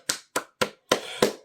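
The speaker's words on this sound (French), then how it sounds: "félicitations, j'applaudis" Five sharp hand claps ring out close and clear, the first three evenly spaced and the last two followed by a brief lingering tail.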